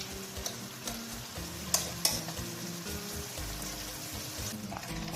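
Tomatoes are stirred and crushed in a simmering pot of pinakbet, a bubbling sizzle underneath scattered spoon scrapes and a few sharp clinks against the pot, close and moderately loud throughout.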